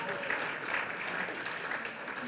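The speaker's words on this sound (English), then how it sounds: "Yes, please clap." A crowd at a city transit-line celebration claps at a moderate, distant-sounding level, a short continuous patter of hands throughout.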